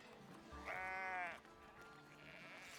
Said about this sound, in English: those sheep are loud when you're zoomed in right next to them.